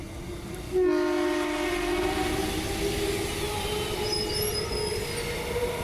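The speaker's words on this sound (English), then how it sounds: "and here's a train" A train rumbles steadily past Gosnells station with a tonal hum and squealing wheels, the sound swelling suddenly and then holding a loud, continuous roar.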